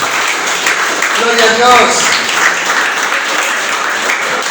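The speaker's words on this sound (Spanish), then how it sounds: "Dale un aplauso a Jesucristo." A church congregation applauds for Jesus Christ, a steady wash of clapping and cheering filling the room while a voice speaks briefly over it.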